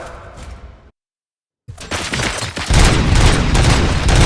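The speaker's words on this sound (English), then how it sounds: "Gunshots? What's going on?" In the video game RoboCop: Rogue City, a brief burst of clattering, then a second of silence, followed by loud, rapid gunfire that swells into a heavy, continuous volley.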